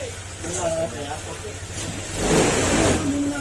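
A motor engine revs up and roars loudly close by, with people talking over the rumble before it surges louder near the end.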